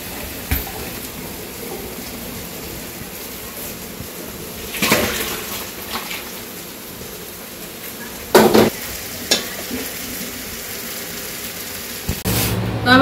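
Papaya stir-fried in a pan in a village kitchen: a steady low sizzle and hiss like light rain, broken by a few louder scraping stirs of a spatula, close and continuous without talk.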